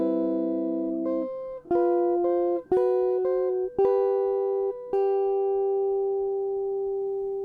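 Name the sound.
guitar playing a phrase of a melody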